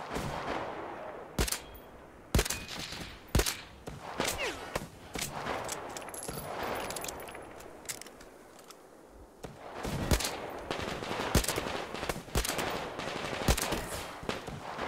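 Bursts of Metro Exodus gunfire: sharp single shots and rapid automatic volleys crack out at irregular intervals, loud against a quieter rumbling background, with gaps between the firefights.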